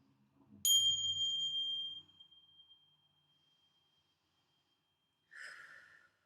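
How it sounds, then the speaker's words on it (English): A bell is struck once and rings out clearly with a long, pure tone that slowly fades over several seconds, followed after a pause by a brief softer chime or breathy rustle, close and alone. "I'm going to ring some bells too, actually."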